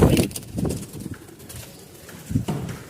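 Pigeons coo in soft, repeated low throaty calls from close by, sounding alone with no talk, in a pigeon-selling setting.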